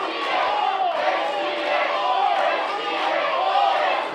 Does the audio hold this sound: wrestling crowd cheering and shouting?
yes